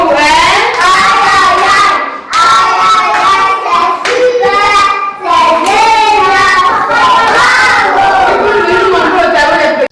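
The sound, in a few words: children clapping hands at a school celebration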